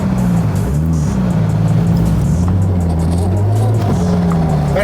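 A 1500hp Toyota Supra's engine roars loudly and close as it pulls away, its pitch rising and dropping through gear changes.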